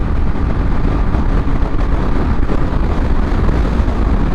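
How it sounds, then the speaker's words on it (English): Heavy, roaring wind buffets the microphone while riding a Honda ADV 150 scooter at highway speed, a loud continuous low rumble with no speech. "It's windy as hell."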